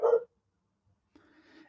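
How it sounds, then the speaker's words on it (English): A dog gives one short, loud bark near the start, then a long pause before a faint, low rustle of background noise; no talking. "sorry about my dog barking in the background"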